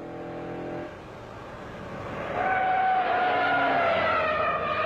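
A Dodge Hemi Daytona competition engine runs loud and close, its note climbing as the revs rise partway through and then holding a strong, steady drone, with no talk over it.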